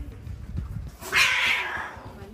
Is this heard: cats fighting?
yes